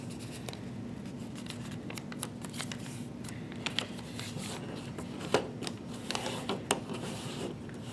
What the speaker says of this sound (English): you're just going to fold your rectangular piece in half like this